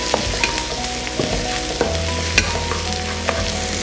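Carrot and tomato pieces are stir-fried for puttu upma, a steady loud sizzle running throughout with repeated scraping strokes of a spoon against the pan, close and without any talking.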